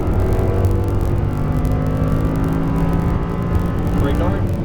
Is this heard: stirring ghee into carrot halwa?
no